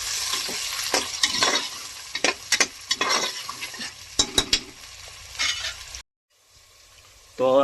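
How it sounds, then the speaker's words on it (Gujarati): Soaked green peas being stirred into masoor lentil pulao in a frying pan, busy sizzling with rapid irregular spoon clinks and scrapes, close and loud, then a sudden drop to near silence with a brief faint noise at the end. "હવે હલાવીને મિક્સ કરી લઈશું।"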